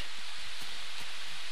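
Rain falls steadily in Minecraft, a dense, even hiss of drops filling the whole moment at constant loudness with no other sounds.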